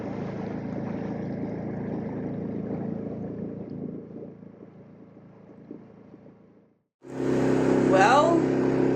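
Dinghy outboard motor running steadily on a ride across a mooring field in St. Augustine, a continuous low drone with wind buffeting, cutting out briefly before a louder, brighter burst of engine and wind.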